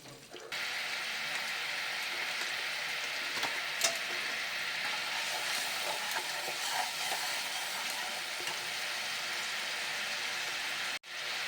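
Black cumin and cumin paste sizzle in hot oil in a pan just after bhetki fish has been fried, a steady close hiss that runs continuously and evenly with a brief cut near the end.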